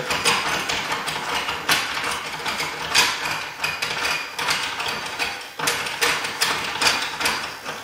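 Bolts tightened with a ratcheting wrench on an adjustable mold platform for a Lee Pro, a close run of clicking and metallic clanks in uneven bursts, with no talking.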